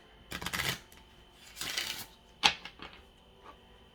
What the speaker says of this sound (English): with a hard shuffle, a bit, 3-time shuffle with a cut